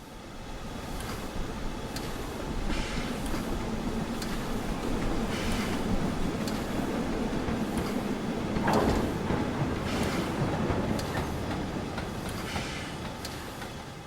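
A Caledonian Railway 262 class steam locomotive in the Train Simulator game rolls along with a continuous moderate rumble, broken by regular sharp bursts and clicking rail noise.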